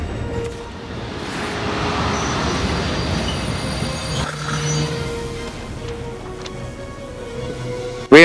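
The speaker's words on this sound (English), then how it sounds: "Reinforcements have appeared from the armored train." Armored train rolling in during a battle at a railway in Valkyria Chronicles 4, a steady rumble of wheels on rails with faint squeals, sustained and fairly loud before a brief sharp burst at the end.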